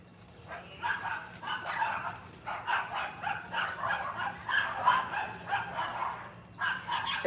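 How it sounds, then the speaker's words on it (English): Small dogs bark repeatedly in quick bursts and yips, moderately close, with a low steady hum underneath and a brief pause before the barking resumes. "It's always the little dogs that bark the most."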